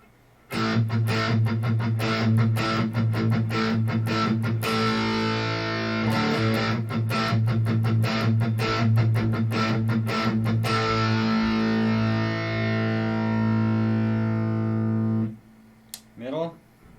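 A Les Paul electric guitar with distortion plays fast strummed rhythms and sustained chords, loud and gritty, ending with a long ringing chord that cuts off.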